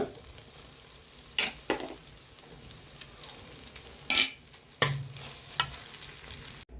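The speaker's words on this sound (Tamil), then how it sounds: "இப்போ இருக்கிற வந்து இதுலேயே வந்து சாப்பாடை போட்டு கிண்டிக்கலாம்." Cooked parboiled rice being stirred into coriander and mint thokku in a pan, heard as a soft steady scraping with a few sharp spoon knocks and clanks against the metal.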